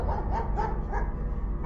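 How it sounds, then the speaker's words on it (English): Two dogs barking and growling outdoors at a stranger, short repeated yaps and snarls over a low rumbling background, fairly close and loud. "my dog started barking and growling"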